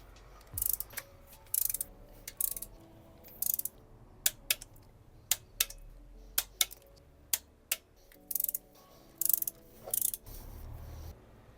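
A torque wrench clicks as an engine bolt is tightened to 10 Nm, with a steady series of crisp, close ratcheting clicks in bursts and no talking.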